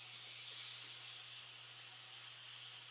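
Steady hiss of steam venting from a pressure canner during home canning of harvest produce, a continuous, even, fairly faint rush with a low hum beneath it and no voices.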